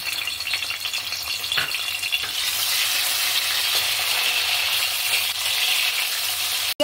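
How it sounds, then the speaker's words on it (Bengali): Tomato and green chili frying in hot oil for a chicken tikka biryani, a steady loud sizzle that swells after a couple of seconds with occasional stirring clinks, no voices. "আমি তেলের মধ্যে দিয়ে দিচ্ছি টমেটো আর কাঁচা লঙ্কা।"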